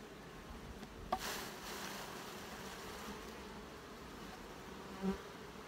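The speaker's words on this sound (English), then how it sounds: "this box is right full of bees now" Honey bees buzz as a steady, dense drone from an opened hive box during an inspection. The sound stays close and continuous, broken only by a couple of brief knocks.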